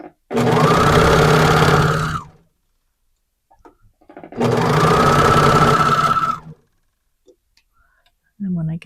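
A serger overlocks the edge of a legging in two steady, loud runs of about two seconds each, separated by a short pause, with a brief voice at the very end.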